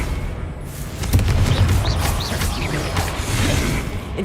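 Confringo spell blast in the video game Hogwarts Legacy: a sudden booming burst about a second in, followed by crackling, clattering mechanical game effects and a sustained rumble that keep the scene loud throughout.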